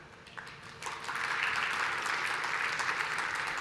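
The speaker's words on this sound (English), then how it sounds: "give yourself a round of applause" A conference audience breaks into applause, with a few scattered claps growing quickly into steady, full clapping from a large crowd that continues.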